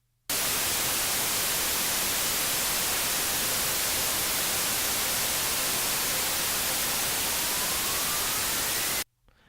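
Synthesized noise for electronic music fills the air as a loud, dense hiss that cuts in abruptly and holds steady, with a faint rising sweep tone gliding upward near the end before it stops sharply.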